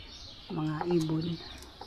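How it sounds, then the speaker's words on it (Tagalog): Pigeons or doves giving a short, soft cooing call of a couple of low, rounded notes, fairly close by with faint background noise. "Ang mga ibon, guys, dyan ka ano. Kalapati."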